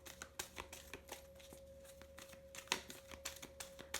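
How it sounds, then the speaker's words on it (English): Tarot cards are shuffled by hand in a quiet room: soft, rapid riffling and flicking in a steady irregular patter, close and fairly faint over a low constant hum, with no voices. "I'm just shuffling for a Journey of Love card"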